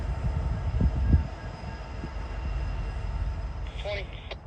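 A Salem switcher locomotive shoves a short cut of rail cars through a yard, a low rumbling drone with a couple of clanks early on and a brief squeal near the end, with faint voices in the background.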